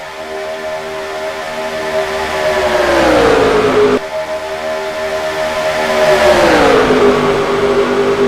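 Stock cars roar around Atlanta in NASCAR Racing 2003, a loud sustained engine drone rising in pitch as the field accelerates, dipping and climbing again in two long sweeping passes with no talk over it.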